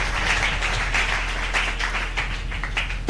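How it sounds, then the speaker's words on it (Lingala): A congregation at a Christian entrepreneurship sermon applauding, heard as dense, continuous clapping from a sizable crowd in a hall, steady and fairly loud for a few seconds. "Est-ce qu'on peut s'acclamer?"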